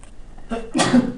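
A single sneeze in a quiet room, a short sharp burst after a faint intake of breath.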